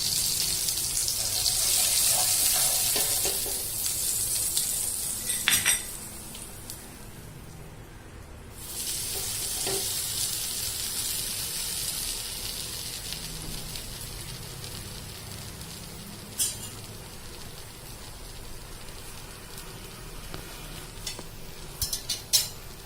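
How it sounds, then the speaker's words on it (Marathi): Butter sizzles and fries in a pan while a sandwich toasts, giving a soft, steady crackle. Occasional scrapes and clatters of stirring or turning sit on top of it. Nobody speaks. "आपण आता बटर टाकतोय"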